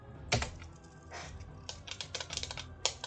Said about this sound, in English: when I hit F1 on my keyboard, it should be blocking